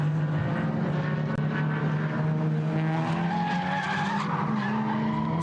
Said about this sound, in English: Squeal of tyres.